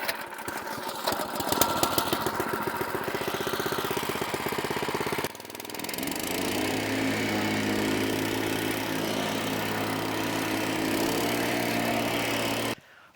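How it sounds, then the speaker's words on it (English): A plate compactor's small engine pull-starts with a rapid sputtering clatter, pauses briefly, then settles into a loud, steady idle that runs for several seconds before cutting off. "I feel like this is one of the most underrated tools, is a plate compactor. It usually starts up pretty good"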